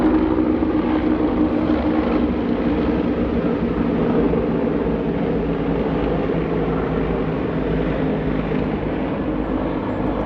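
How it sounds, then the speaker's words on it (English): Helicopters drone overhead in a steady, continuous rotor roar that holds at an even level throughout, with no talking. "The helicopters"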